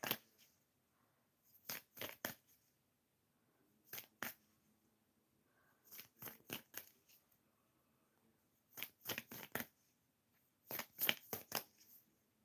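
Tarot cards are shuffled by hand in quick papery riffling bursts, several clusters of sharp flicks separated by short pauses, close and clear with no talking.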